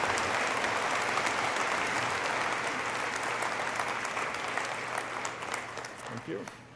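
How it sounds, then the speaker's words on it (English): An audience at a university bachelor's graduation ceremony applauds the mace bearers, with sustained clapping that fills the hall and slowly tapers off toward the end. "let's applaud the mace bearers."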